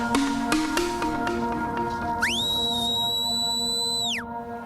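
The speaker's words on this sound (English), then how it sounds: "The cheetahs associate the whistling with meal times." Keepers at a cheetah enclosure give a long, clear, steady whistle to signal mealtime, held for about two seconds over a backdrop of ringing tones and faint clatter.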